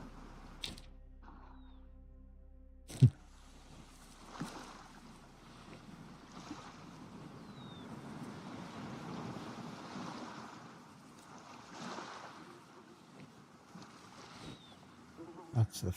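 Flowing water in the hunting game Way of the Hunter makes a low, continuous rushing wash, with occasional thumps and some quiet voice sounds over it.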